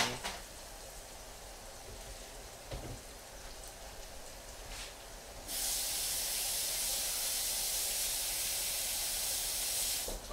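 Onions sizzle in a hot pan, a bright, steady hiss that bursts in loudly midway and continues unbroken, after a quieter stretch with faint clatter.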